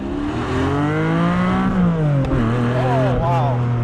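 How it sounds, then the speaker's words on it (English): Porsche Cayman GTS 4.0 with a manual gearbox rolling in first gear through traffic, its engine giving a steady low drone with a slight rise in pitch and then a settling, under a voice talking throughout. "it's just rolling here in first gear"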